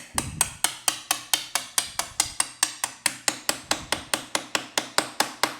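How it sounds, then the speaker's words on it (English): Rapid, evenly spaced metallic taps from a small hammer tapping a spacer into place on a KTM motorcycle's lowering link, about four per second, sharp and close, continuing without pause. "Get a little hammer."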